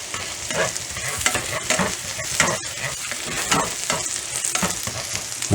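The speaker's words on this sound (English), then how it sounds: "And now we're going to add this little bit of garlic." Garlic and onion fry and sizzle steadily in a pan, a dense close crackle broken by repeated stirring scrapes, with no talking.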